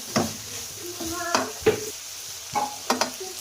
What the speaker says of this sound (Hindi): ये हमारे पास एक शिमला है, इसको भी हमने अच्छे से पका लेना है।